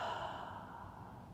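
A soft, slow exhale through the nose or mouth during a yoga flow, a single quiet breath heard up close.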